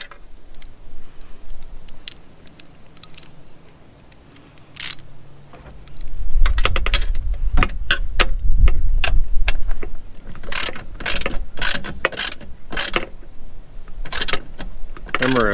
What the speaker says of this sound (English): you're just going to have to get a combination wrench and tighten it down